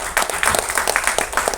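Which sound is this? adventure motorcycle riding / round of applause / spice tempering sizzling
round of applause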